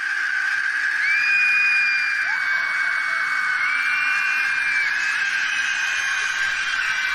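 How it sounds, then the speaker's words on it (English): Kids at a birthday party shriek with joy in the film Clown: loud, high, overlapping screams hold steady and close for several seconds without a break. "there's screams of joy amongst a bunch of kids at a birthday party"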